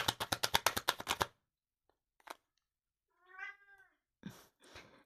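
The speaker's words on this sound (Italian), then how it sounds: "La gatta vi saluta." A female cat meows clearly in a quiet room, one drawn-out tonal call in the middle, with rapid rhythmic card shuffling at the start and a few soft rustles afterward.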